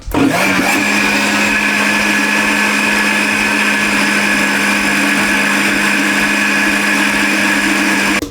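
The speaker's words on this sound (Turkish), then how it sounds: "makarnamızın suyundan alacağız rondonun içerisine. Bunu böyle bir döndüreceğiz." A food processor whirs loudly and steadily, blending pasta sauce thinned with pasta water for a basil and pastırma vegetable pasta sauce, a constant motor hum with a high whine that runs unbroken for about eight seconds.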